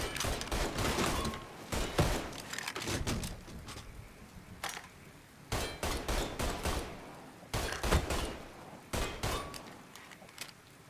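Rapid gunfire in a shootout in the video game Mafia III, with repeated volleys of sharp, loud shots in bursts separated by brief lulls and metallic clanks between them.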